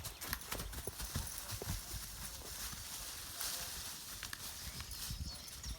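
A mare's hooves clip-clop steadily on the ground, a continuous run of close, sharp knocks over a noisy outdoor background.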